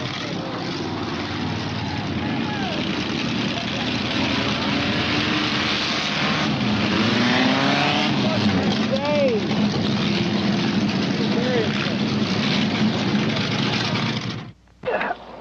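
Loud, droning engines of swamp buggies racing on a muddy Florida Everglades course, a continuous roar with rising and falling pitch. Voices talk over it before it cuts off abruptly near the end.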